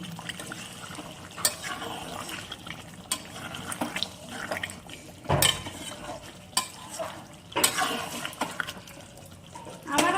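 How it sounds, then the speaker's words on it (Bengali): Chicken sautéing with spices in a pan, a wet sizzle broken by irregular spatula scrapes and stirring clatters, close and fairly loud, with no voice heard. "দিয়ে একটু ভালো করে কষিয়ে নেব।"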